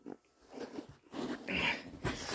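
A cat makes a short, strained meow or growl-like cry close by amid faint rustling and background noise, no one talking.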